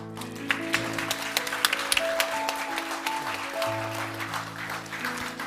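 A church congregation at a pastor's installation service in Anchorage claps steadily, with the applause running beneath sustained organ or keyboard chords.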